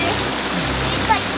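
Fast-running water at Erawan Falls, a multi-level waterfall in Thailand, makes a steady, loud, close rushing wash throughout, with faint voices mixed into the roar.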